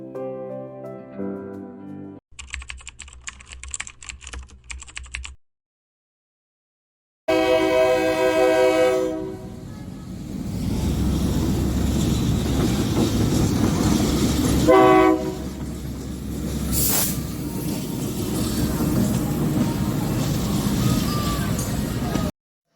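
A train passes close by on the tracks and sounds a loud, sustained horn, with rumbling wheels and rail noise that continue for a long stretch after a brief quiet gap.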